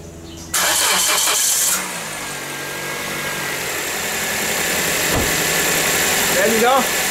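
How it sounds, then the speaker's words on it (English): Car engine cranked and started using a homemade 12 V jump pack built from a cordless power tool battery: a loud starter whir, then the engine catches and settles into a steady close idle. "So let's try to see if I can start the car with just that battery pack."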